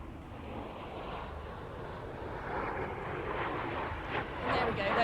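Display aircraft in a yellow-led trio flying at the RAF Waddington airshow, a distant broad engine roar that swells gradually toward the end.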